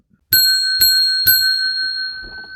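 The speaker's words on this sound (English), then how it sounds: "Initially, that bell was so when I rang it, Susie would run down to refill my coffee" A hand bell rung three times in quick succession, bright ringing strikes that sustain and slowly fade, loud and close with no voices.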